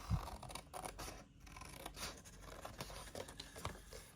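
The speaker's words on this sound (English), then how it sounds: "So cut that one off because we don't want it. Cut this one off." Scissors snip and scrape through card stock while trimming shaded sections for a no-glue gift box, quiet and close, with a few short cuts and soft paper rustles and no talk.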